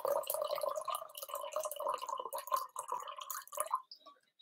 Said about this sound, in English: add some hot water in a cup